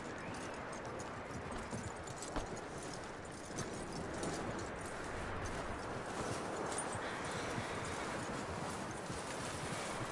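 Horse hooves clip-clopping in a video game, a steady rhythm of close, moderately loud hoofbeats with no talking over them.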